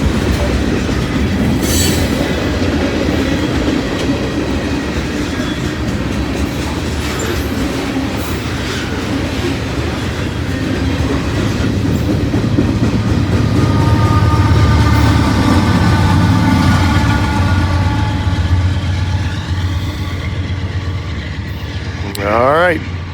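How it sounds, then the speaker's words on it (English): Long train rolls past at close range, a steady loud rumble with rhythmic clickety-clack of wheels and metallic squeals near the end, while people speak over it. "It just got there when the train came, so time to go eat."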